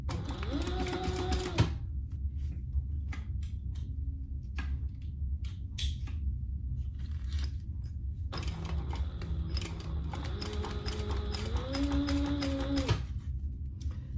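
A sewing machine stitches a pouch at stitch length 4, running in two steady mechanical bursts separated by a quieter pause, with motor whine and rapid needle clatter close by.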